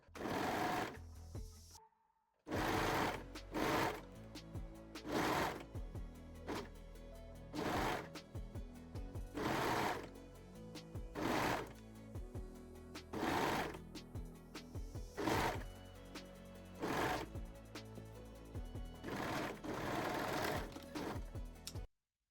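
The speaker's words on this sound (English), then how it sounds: "You can lightly stretch the elastic while sewing." A sewing machine stitches white elastic onto the side seams of a bralette, running in repeated bursts of rapid needle clatter separated by short pauses, close and clear with no talking.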